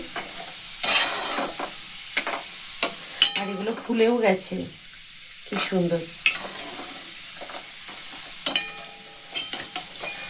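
Sita Bhog-style sweets frying in oil produce a soft, steady sizzle, broken by occasional utensil clinks and stirring, while a person talks over the cooking.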